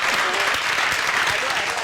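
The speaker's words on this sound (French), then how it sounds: "on va l'applaudir très fort" A studio audience on a French-language TV show breaks into loud, dense applause, sustained clapping throughout the brief moment.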